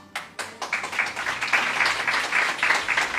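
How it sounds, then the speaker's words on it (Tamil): A live audience applauds, starting with a few scattered claps that swell into steady, fairly close clapping lasting several seconds, with no clear laughter. "இதோ கைத்தட்டி சிரிக்கிறாங்க"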